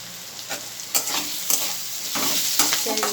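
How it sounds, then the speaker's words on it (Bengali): Fresh river fish seasoned with salt and turmeric frying in hot oil: a steady, close crackling sizzle with scraping stir strokes and occasional louder pops, no talking. "লাল লাল করে ভেজে দেবো"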